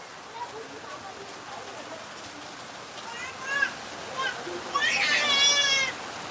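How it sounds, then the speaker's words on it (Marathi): Heavy monsoon rain pours onto a tin roof and runs off it in a continuous hiss. Voices and a cat-like cry rise over it toward the end. "भयानक पाऊस चालू आहे"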